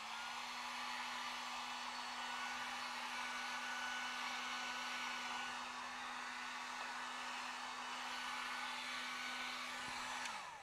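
A heat gun blows over a purple paint pour on a canvas panel, giving a steady, close whooshing roar with a faint motor hum that holds evenly for about ten seconds before cutting off.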